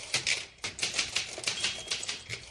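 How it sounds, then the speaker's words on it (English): Fast typing on a Smith Corona typewriter: rapid, irregular clacking keystrokes in quick bursts, close and moderately loud, with no voices. "her typing at an astonishing speed on her Smith Corona typewriter."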